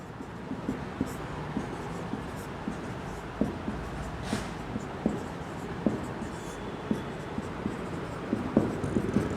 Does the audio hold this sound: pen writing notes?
yes